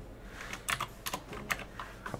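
A computer keyboard is tapped in uneven clusters of crisp clicks, nearby and fairly quiet, with small pauses between keystrokes and nobody speaking.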